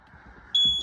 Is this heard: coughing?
no